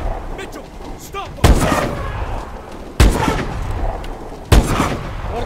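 Heavy gunfire in the video game Call of Duty Advanced Warfare, three loud booming shots spaced about a second and a half apart, each with a rumbling tail, over background battle noise.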